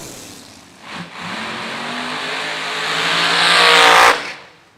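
Dragsters race down a drag strip at a bracket racing event, their engines swelling into a loud, sustained roar that builds over several seconds and then cuts off, heard from trackside.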